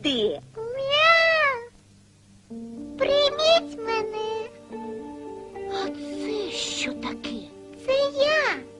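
A ginger kitten mews repeatedly in high, wavering cries, interspersed with a voice talking, with gentle background music underneath.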